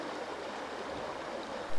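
The Middle Branch Ontonagon River in Michigan's Upper Peninsula, running higher than normal, gives a steady, broad rush of flowing water with no break.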